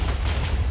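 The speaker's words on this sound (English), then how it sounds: "that was a big explosion" TNT blowing up in Minecraft, a deep continuous rumbling boom that stays loud and sustained with no separate blasts.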